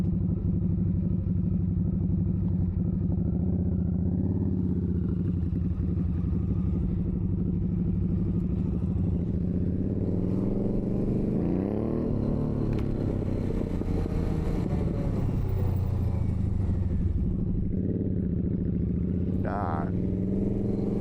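A loud Harley motorcycle engine idles with a deep, continuous rumble and some revving, close by, while a voice speaks over it.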